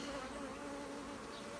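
Honeybees swarm around an opened beehive, making a soft, continuous droning buzz of many wings that hums steadily without a break.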